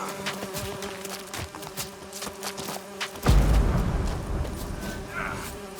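A swarm of bees attacking in The Witcher 3, a dense, wavering insect buzz with scattered clicks and thuds, then a louder low rumbling burst midway as the buzzing continues close by.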